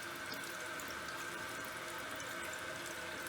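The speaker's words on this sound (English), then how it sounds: "Our hose from the fill valve is going right into the overflow." A toilet fill valve hose sends water straight into the overflow tube, making a steady, close-up trickling rush that runs evenly and without a pause.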